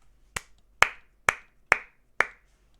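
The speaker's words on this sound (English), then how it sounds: "that wasn't even a sarcastical clap." Five sharp hand claps spaced about half a second apart, crisp and fairly close, alone with no talking.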